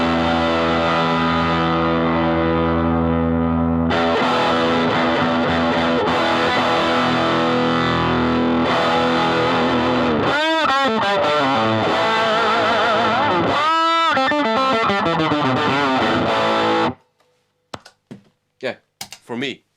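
Electric guitar played through a Marshall Origin 5C amp with the treble turned fully down, loud sustained distorted chords and riffs for about seventeen seconds, then silence with a few short quiet clicks at the end.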